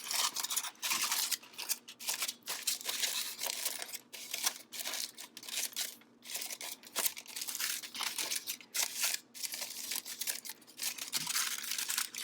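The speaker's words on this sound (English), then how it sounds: "I'm going to take my sheet of cardboard and gently wrap my foil around it" Crumpled aluminium foil being gently wrapped around a sheet of cardboard, continuous close crinkling and rustling in dense bursts with brief pauses, no voices.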